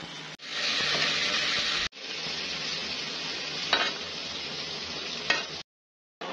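Rohu fish cooking in a pan with a little water, turmeric, salt, red chilli powder and cumin powder, a steady loud sizzle with stirring scrapes. It cuts out briefly near the start and again at the end.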